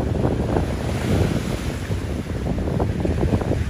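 Rough sea waves surging at Manila Bay, a steady loud wash of surf with heavy wind buffeting the microphone throughout, no voices.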